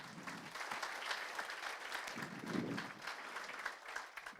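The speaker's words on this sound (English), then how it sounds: "would you please give these individuals a round of applause?" An audience at a motorsports Hall of Fame induction ceremony applauds, steady clapping that swells briefly and fills a large hall.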